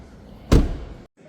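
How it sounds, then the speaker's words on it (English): A car door swings shut with a single solid thud, loud and close, followed by a brief silence and quiet room tone. "let's shut this door and we'll go to the driver's side next"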